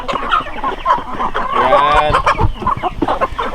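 A large native Hulwano-breed chicken clucks and squawks up close in a farmyard, a busy run of loud clucks with a brief crow-like drawn call in the middle, while someone says a word.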